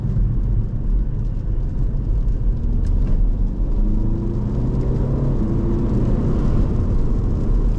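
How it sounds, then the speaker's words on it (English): A 2021 BMW M Sport Touring's 2-litre four-cylinder engine hums and rises steadily in pitch as it accelerates, heard from inside over a constant road rumble. "The 2-liter 4-cylinder engine makes a really good, nice sound."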